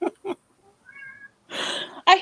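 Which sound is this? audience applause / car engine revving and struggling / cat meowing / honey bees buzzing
cat meowing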